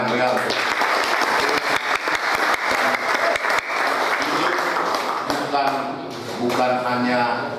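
A roomful of people at a Pemuda Pancasila gathering in Jakarta claps loudly, sharp hand strikes ringing out close and dense, thinning toward the end as voices begin to rise over the fading applause.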